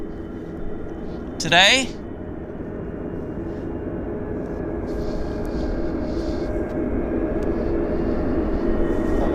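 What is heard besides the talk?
airliner pulling out for Cabo San Lucas flight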